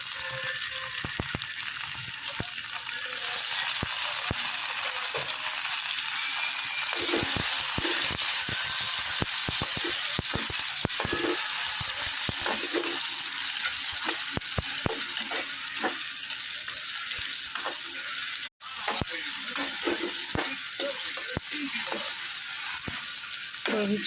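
Tomatoes sizzling and frying with browned onion in a pan for a masala base, a steady hiss with occasional stirring clatter, close and continuous throughout.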